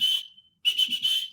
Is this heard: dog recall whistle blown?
yes